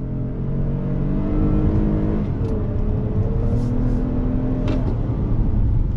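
A 2021 Toyota Highlander XSE with a V6 accelerating under throttle, heard from inside: a steady, rising engine drone and road roar that holds loud and smooth throughout.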